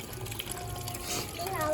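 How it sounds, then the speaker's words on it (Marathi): Water balloons being filled with water during Holi play outdoors, a steady gushing, pumping flow with children's voices mixed in close by. "बलून पाणी भरतोय."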